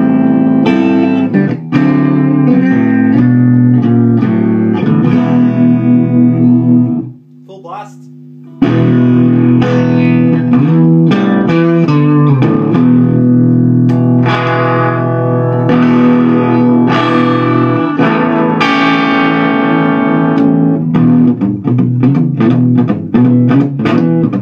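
Electric guitar played through a Fender Champ 5F1 tube amp turned up to 10, giving a loud, continuous distorted tone with strummed chords and sustained notes, broken by one brief pause midway.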